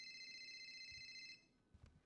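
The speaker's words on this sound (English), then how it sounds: "Let me mute my phone." A phone rings in a courtroom roleplay, a thin electronic ringtone holding steadily for over a second before cutting off, followed by a couple of soft thumps.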